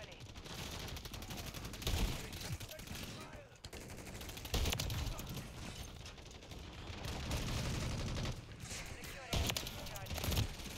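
Shotgun and other gunfire in the video game Call of Duty, repeated loud blasts and rattling bursts across a busy, noisy battle mix with continuous game sounds.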